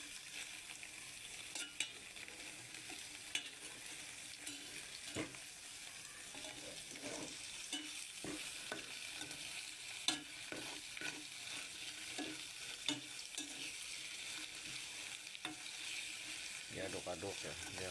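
Oil mixture for Bangka massage oil being stirred and sautéed in a pan, with a steady soft sizzle and scattered scraping clicks of the utensil throughout, a faint tap-like clatter near the end.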